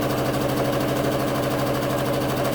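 A sewing machine stitches along raw fabric edges, giving a steady, even mechanical whir with a fast rhythmic hum that runs without a break and is heard alone at moderate level.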